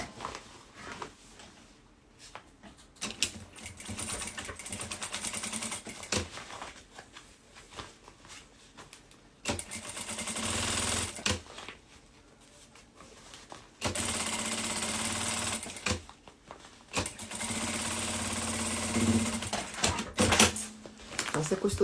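Sewing machine stitching a seam on a handmade women's bag, running in several bursts of a few seconds each with pauses between, fairly loud and close.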